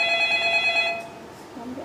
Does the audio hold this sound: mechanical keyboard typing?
no